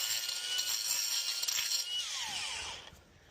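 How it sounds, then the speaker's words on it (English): A grinder carves out cracks in a damp masonry wall, giving a loud, steady, harsh high whine that runs for about three seconds before easing off and dropping lower at the end. "Just going to use the best grinder in the world and carve out some of these cracks."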